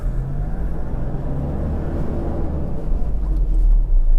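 A Toyota Hilux Vigo 2.5E diesel pickup heard from inside while driving: steady low engine rumble and road noise that grows slightly heavier toward the end, with no talking.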